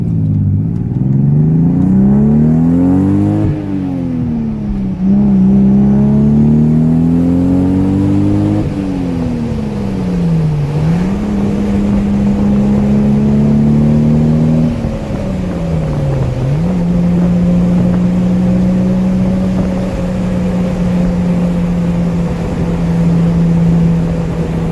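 A 1994 Toyota Supra twin turbo with a 6-speed, mostly stock, driven with the roof panel off: a loud close engine drone that rises through the gears with drops at each shift, then settles into a steady cruise hum with wind noise.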